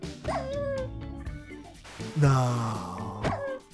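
Dog barks and whimpers from a Minecraft game, a couple of short yips mixed with a person talking and exclaiming over the game audio.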